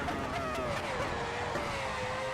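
A Formula 1 car under very late braking, its loud engine note sliding downward as it slows with a brief tyre lock-up, heard close and continuous without any talk.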